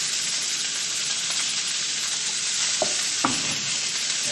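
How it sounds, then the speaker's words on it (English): Olive oil sizzles in a hot pan ready for sauteing vegetables, a steady bright hiss close up with two faint utensil taps near the end. "So on another hot pan, we'll just add a little bit of olive oil."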